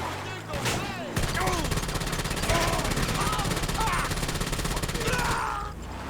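Rapid bursts of gunfire and a fusillade of shots in a public-lobby video game session, loud and dense throughout, with a voice talking over the shooting.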